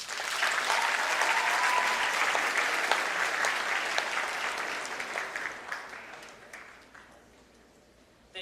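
Audience applause at the opening ceremonies of a 2016 YJA convention, dense clapping from a large crowd that stays loud for several seconds, then thins out and fades toward the end.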